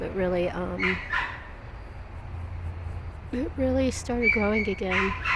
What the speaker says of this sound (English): Sorry about the dog, but that's the neighbor's dog.